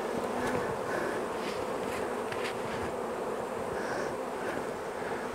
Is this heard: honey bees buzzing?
yes